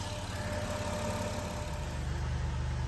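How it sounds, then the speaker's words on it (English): A 2009 Chrysler Town & Country engine idles steadily, its low, even rumble constant and close throughout, from a van with a stuck torque converter solenoid. "Got the engine sitting here idling"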